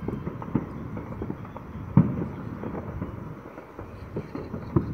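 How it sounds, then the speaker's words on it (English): Distant New Year's Eve fireworks in a Hawaii neighborhood pop and rumble continuously, with scattered sharper bangs over a dull, crackling background roar; no voices. "There's been fireworks literally the whole day."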